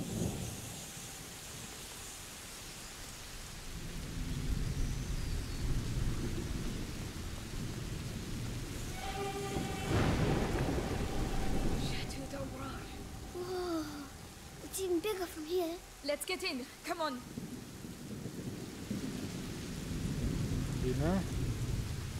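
A thunderstorm with steady rain in A Plague Tale: Innocence, with rumbling thunder swelling midway under continuous rainfall, while people talk over it.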